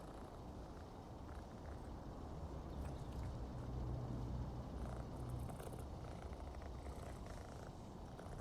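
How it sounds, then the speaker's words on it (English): Cats purring steadily and close, a continuous low rumbling drone that swells slightly in the middle and runs alone for the whole stretch. "The cats are a purring."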